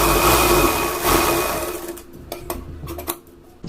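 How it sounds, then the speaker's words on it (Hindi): A simple domestic sewing machine stitches blouse fabric, running in a loud steady whir for about two seconds, then slowing and stopping, followed by a few quieter clicks and handling knocks nearby. "तो ये हमने सिलाई लगा के अटैच कर लिया है।"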